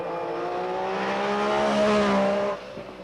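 MG Metro 6R4 rally car at a tarmac rally, engine rising to a loud revving howl as it passes close, then dropping away sharply near the end.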